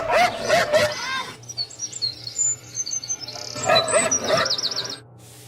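A feral girl imitates a dog, giving two clusters of harsh, dog-like barks from a human voice in a TV news segment, with birds chirping and tweeting in the pause between them.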